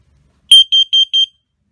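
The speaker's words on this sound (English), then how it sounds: "So there's that audible alarm showing 26 parts per million." A low-level carbon monoxide detector sounds its audible alarm at 26 parts per million: four sharp, high-pitched electronic beeps in quick, even succession, loud and close after a brief silence.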